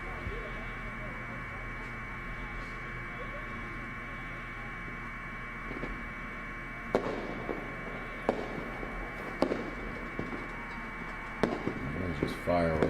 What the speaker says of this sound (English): Those are just fireworks.